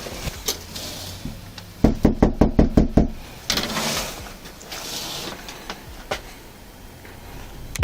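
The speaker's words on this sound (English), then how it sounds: "After knocking on the door and announcing themselves multiple times" Sharp knocks on a house door, about seven quick raps in a burst, by police officers, followed by faint background noise and a few softer thumps.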